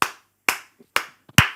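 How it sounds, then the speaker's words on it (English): Four sharp hand claps, evenly spaced about half a second apart, crisp and close, from a single pair of hands with silence between. "Round of applause."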